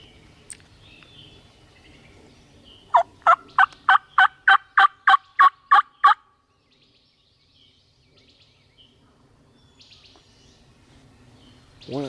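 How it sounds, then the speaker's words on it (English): Wild turkey gobbles near a field, a rapid burst of about ten loud, evenly spaced notes answering a hunter's call, then near quiet with faint distant birds. "See if I can give them a gobble."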